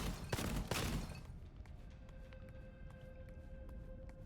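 Gunfire Reborn video game combat opens with loud bursts of grenade and shock weapon fire, then drops to a quieter tonal hum with faint ticking.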